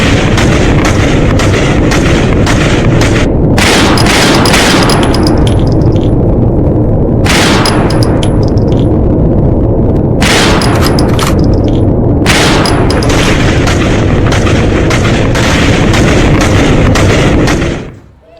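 Bursts of gunfire ring out on a street during an Iran protest, loud sharp shots and booming reports coming in clustered volleys with brief pauses, continuous crowd and street noise underneath, fading out at the end.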